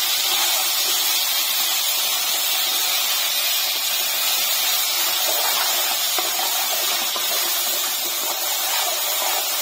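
Masala paste of onion, chili, ginger and garlic fries in hot oil, giving a continuous close sizzle that holds steady throughout with no voices.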